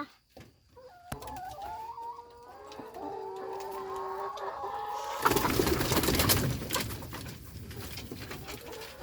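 Chickens cluck nearby in a steady series of calls, joined midway by a burst of loud rustling noise that continues under the clucking.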